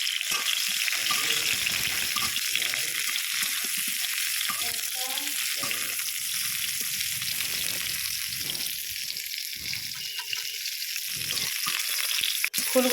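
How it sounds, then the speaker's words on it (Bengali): Cauliflower florets fry in hot oil for a vegetarian dish, giving a steady loud bubbling sizzle with no pauses, and a few soft clinks of a utensil stirring the pan. "সেই ফুলকপিগুলো আমি এখন তেলের মধ্যে দিয়ে খুব সুন্দর করে ভেজে নেব।"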